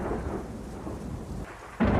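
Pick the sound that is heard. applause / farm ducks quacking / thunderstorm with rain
thunderstorm with rain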